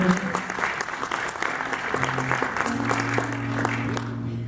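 Concert audience applauding a band's bass player, a steady wash of many hands clapping throughout, with sustained bass and keyboard tones playing underneath.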